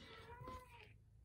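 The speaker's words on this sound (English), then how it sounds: "That's my cat meowing." A pet cat gives a single soft, drawn-out meow indoors, faint and somewhat distant, with a low background hum.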